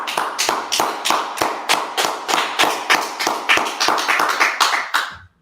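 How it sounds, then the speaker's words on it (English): Steady rhythmic clapping by a group gathered for a scripture study session, about a dozen sharp claps in even time before stopping abruptly, close and fairly loud with no talking over it. "clap it up"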